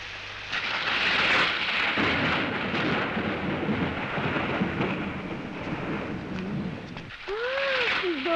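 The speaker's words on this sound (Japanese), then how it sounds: "ひどい雷だね。" Heavy thunder rumbles through a storm with steady rain, a loud continuous roar from start to finish, and a voice briefly heard near the end.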